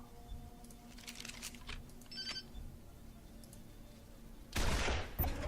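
A shot from a hunting rifle in the Wasteland 2 video game, a faint, quiet game backdrop with a few small clicks, then a sudden loud report near the end followed by a second sharper hit.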